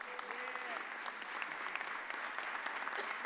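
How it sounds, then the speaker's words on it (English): Applause for a school superintendent at a mayor's press conference, a brief stretch of steady clapping heard at a moderate distance, with a voice faintly beneath it. "Can we give our superintendent a round of applause?"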